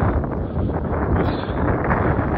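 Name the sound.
wind blowing outdoors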